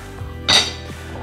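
A shrimp omelette with melted grated cheese is slid from the pan onto a plate, giving one short, bright clink of cookware against dishware in an otherwise quiet kitchen.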